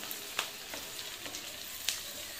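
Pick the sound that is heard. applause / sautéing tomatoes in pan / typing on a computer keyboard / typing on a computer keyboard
sautéing tomatoes in pan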